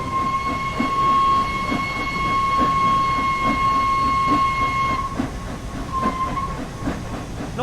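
The whistle of the Flying Scotsman, an LNER steam locomotive in Train Sim World 4, sounds as a sustained, steady tone for about five seconds over rumbling, chuffing train noise, then briefly sounds again.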